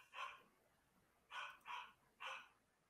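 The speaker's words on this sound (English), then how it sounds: "I'm sorry for the dogs." Dogs bark faintly in the background: one bark, a pause, then three more in quick succession, fairly distant and alone without talk.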